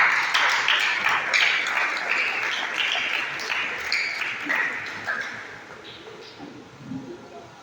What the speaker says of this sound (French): Votre applaudissement, s'il vous plaît.